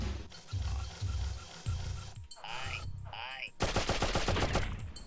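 Gunfire in the video game Oddworld: Abe's Oddysee, several sharp bursts followed by a rapid rattling volley, mixed with game effects and a player talking.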